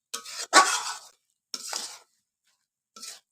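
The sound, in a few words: stirring khesari greens curry in a pan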